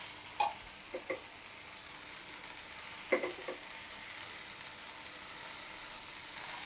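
Hibiscus flowers sauté in a pan for chutney, heard as a faint, low hiss of frying with a few soft knocks and scrapes from stirring, quiet and close, no one talking.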